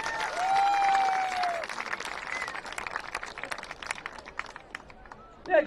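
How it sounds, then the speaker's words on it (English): Audience applause for a student at a Cascade Christian football event, a sustained round of clapping from a crowd with a whistle early on and faint voices underneath, tapering off with a brief louder burst at the end. "Please give Raina Crisp a big round of applause."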